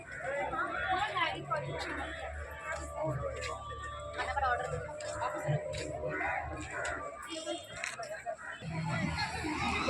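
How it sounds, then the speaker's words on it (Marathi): A dense crowd of tourists mills around Sindhudurg fort in Malvan, with steady overlapping chatter, scattered calls and children's voices forming a continuous, moderately loud outdoor murmur. "मालवण सिंधुदुर्ग किल्ला बघायसाठी लोकांची गर्दी."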